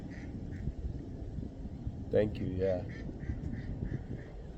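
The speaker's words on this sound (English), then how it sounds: "Duck just said thank you." A duck quacks several times in short nasal bursts, loudest in a cluster near the middle, over steady background noise while people talk nearby.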